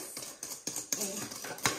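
Eggnog ingredients whisked in a bowl for homemade eggnog: a handful of separate metallic clinks and scrapes, close and moderately quiet, spaced unevenly over a soft background.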